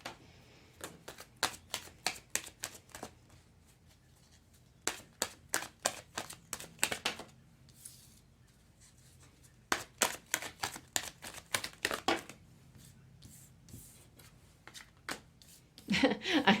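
Tarot cards being shuffled in quick bursts of crisp riffling flutters and slaps, close and clear, with short pauses between each run of shuffles.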